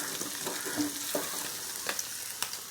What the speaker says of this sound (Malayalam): നമ്മൾ ഇഞ്ചി ഒന്ന് വഴറ്റി കൊടുക്കുക.